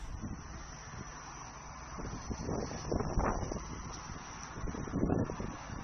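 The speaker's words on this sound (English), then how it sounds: "You can see how windy it is." Wind buffets the microphone in low, rumbling gusts that swell and fade, loud and close, with no voices.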